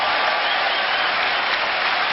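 Tennis crowd applauding Jean-François Caujolle at the 1981 French Open in Paris, a dense, steady wash of clapping from a large stadium audience, loud and continuous without break.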